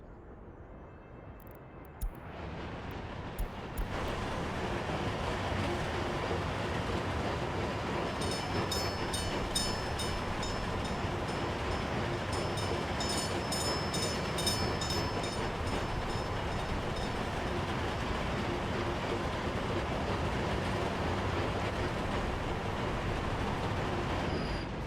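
A short train rolls along its route in the MegaCity city-building game. The steady rumble and clatter starts abruptly and then holds loud and even, with a faint high whine overhead.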